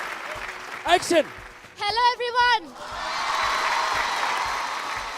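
College audience applause fills the last two seconds as a steady, broad crowd clapping at moderate loudness, following an announcer's voice speaking into a microphone.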